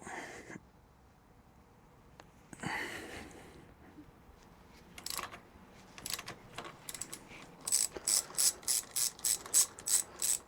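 A ratchet loosens the handlebar clamp bolts on a Suzuki DL800RE V-Strom, with scattered clicks early on building into a regular run of close, crisp ratcheting bursts toward the end.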